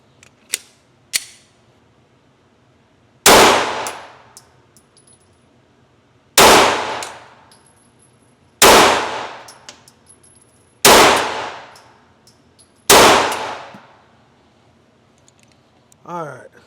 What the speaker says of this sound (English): So, all right, we're going to do the next 5 shots.